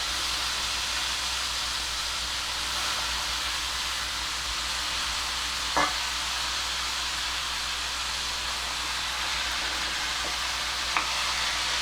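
Bitter field beans and potato cooking in a pan for a spicy Maharashtrian bean dish, giving a steady, moderately loud sizzle and hiss with faint stirring clicks throughout.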